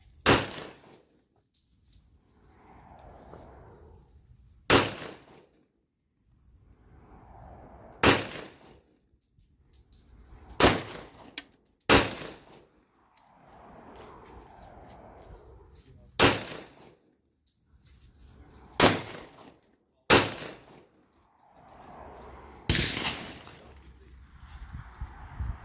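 A Jiminez JA 9mm pistol fires 115-grain Hornady rounds at a training range, with about ten sharp, loud shots spaced a few seconds apart. Each crack is followed by a short echo, and a voice talks quietly between shots.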